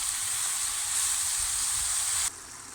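Steady, close sizzling of mushrooms frying in a pan, a continuous hiss that drops abruptly quieter near the end.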